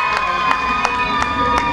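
A concert crowd cheers and claps steadily for a singer at a signing event held in a Kaohsiung Carrefour store, with sharp rhythmic clap bursts repeating about three times a second over a sustained tonal backdrop.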